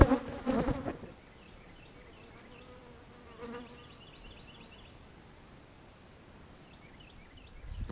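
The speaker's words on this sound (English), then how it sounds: "Look at the bees coming back." A soft, continuous buzz of honey bees fills the air, faint and steady, with a brief rustle at the start.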